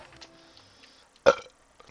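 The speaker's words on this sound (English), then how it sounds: "Burping and recording." A single short, loud burp bursts out close to the microphone after a near-silent stretch with faint game background sounds.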